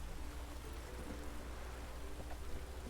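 Heavy rain in the video game Witcher 3 pours as a steady, dense hiss, continuous and even throughout with no voices.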